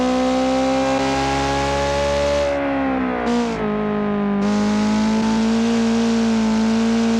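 Sports car engine in the BeamNG driving game revving hard, a loud synthetic-sounding whine that rises, dips briefly around a gear change, then climbs again, continuous throughout with no talking.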